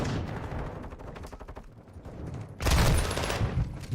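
Shotguns fire in the Modern Warfare 2 video game as a burst of rapid, sharp blasts, followed by a louder, denser volley near the end.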